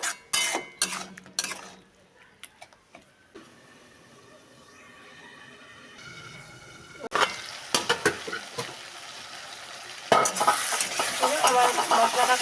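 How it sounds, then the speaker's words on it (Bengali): Spice masala for chicken curry sautéing in a pan, with scattered sharp clinks and scrapes of stirring over a low sizzle that grows louder and denser toward the end. "আমার মশলাটা কষানো হয়ে গেছে"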